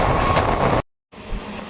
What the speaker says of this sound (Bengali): ধীরে ধীরে আমাদের ট্রেন প্রবেশ করছে তার ডেস্টিনেশন নৈহাটি।